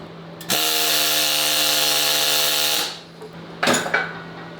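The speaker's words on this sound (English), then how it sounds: "I'm gonna hit them with a descaler to kind of peen them" A pneumatic descaler hammers steady and loud for about two seconds, peening still-hot welds on the axle tubes of a rebuilt 8.8 rear end from a 2000 Mustang GT, then stops, followed by a short burst of clanks.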